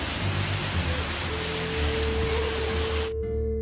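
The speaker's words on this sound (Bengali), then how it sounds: "একটু বসতে না বসতেই খুব জোরে তুমুল বৃষ্টি শুরু হলো" Heavy rain pours down steadily at an eco park cottage near Kolkata, a dense continuous hiss with a faint low hum underneath, cutting off abruptly near the end.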